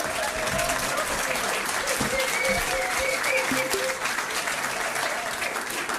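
An audience at a pub quiz night applauds in a full, sustained burst, clapping densely throughout with a few voices faintly mixed in underneath.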